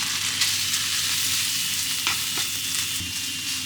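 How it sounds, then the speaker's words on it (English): Steady crackling sizzle of seafood, including clams, sautéing in butter in a hot frying pan, with a few soft clinks of a utensil stirring, close and continuous. "put this seafood inside and saute"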